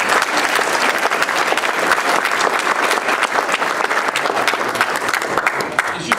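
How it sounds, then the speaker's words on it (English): Steady, loud applause from a debate audience gathered for a talk on public education, dense clapping sustained throughout with a faint crowd murmur underneath. "So give yourselves a round of applause."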